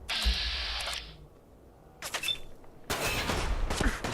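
Bursts of gunfire in the video game Fallout 4 with the Sim Settlements 2 mod: a loud volley at the start, a shorter burst near the middle, then sustained rapid shooting to the end, with no talk.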